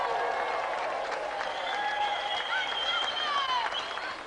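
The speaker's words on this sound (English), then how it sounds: "let's have another round of applause for our gallant competitor" Studio audience applauding an arm-wrestling contestant on a game show, a steady wash of clapping and cheers with a few whistles and shouts.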